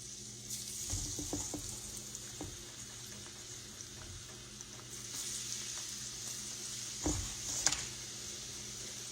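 Eggplant slices frying in grease in a pan, a steady quiet sizzle with a few soft clunks and scrapes of handling.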